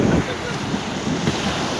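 High-tide waves roll in at Salthill Beach in Galway, a loud broadband surf rush with wind buffeting the microphone and a couple of heavier swells breaking close by.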